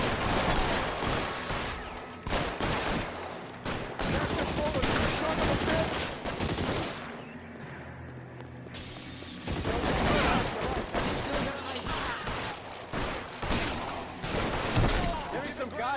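Shotgun fire rips through a shootout in L.A. Noire as dense volleys of sharp, loud gunshots. The firing comes in two heavy bursts with a brief lull in the middle, and game voices can be heard amid the shots.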